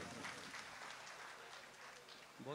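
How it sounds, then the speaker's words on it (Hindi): Faint, distant audience applause fills a mushaira hall, a steady wash of clapping that continues throughout, with a voice briefly heard near the end. "आपको मेरे ख्याल से एक मर्तबा जोरदार तालियां और बजानी चाहिए।"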